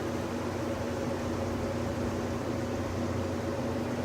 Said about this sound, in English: I'm right under the air conditioner for the concession stand.